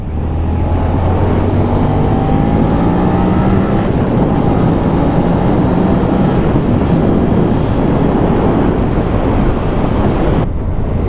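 Suzuki SV650 motorcycle on a test ride, its engine running steadily throughout under heavy, constant wind rush, loud and close with no break.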